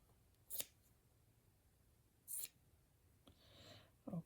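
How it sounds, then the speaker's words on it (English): Scissors snip through fabric for crumb quilting in three or four short, crisp cuts separated by quiet pauses; close but soft. "Let's cut it across."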